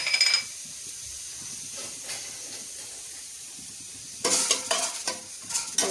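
Whole spices, bay leaf, marathi moggu, star anise, cinnamon, cloves and cardamom, frying in hot oil for coconut-milk mutton pulao, a soft hiss that swells into a louder crackling sizzle near the end.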